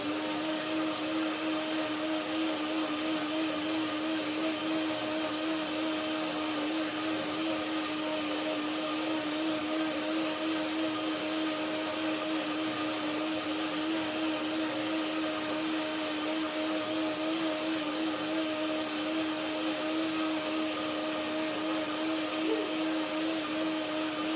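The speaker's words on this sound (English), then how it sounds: "One more blender dance, please." Kitchen blender running steadily on lime almond cream dressing for a strawberry banana fruit salad, a constant motor whir with a steady tone throughout, close and fairly loud with no talking.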